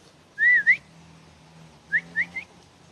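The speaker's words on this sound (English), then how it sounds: "If they're far away and tutoy is not enough to summon them, you just whistle." A person whistles alone to call dogs: one sliding two-tone call, a pause, then three short rising whistles, clear and fairly close.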